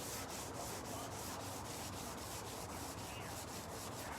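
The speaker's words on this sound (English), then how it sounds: "these lines are supposed to be very crisp, so I'm cutting it down with 320 grit dry" Primer under a guide coat is sanded by hand with 320 grit dry sandpaper, making a continuous rhythmic rasp of quick back-and-forth strokes, steady and fairly soft.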